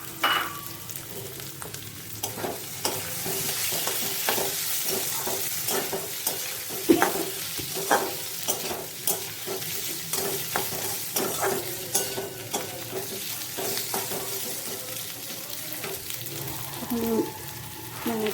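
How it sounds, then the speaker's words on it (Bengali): Chickpeas and pieces of pre-fried taro sizzle in a pan over medium flame while a spoon stirs and scrapes them repeatedly, a steady frying crackle broken by sharp clinks. "ছোলাটা দিয়ে অল্প ভাজার পরে ভেজে রাখা কচুটা দিয়ে দিলাম, ছোলা কচু।"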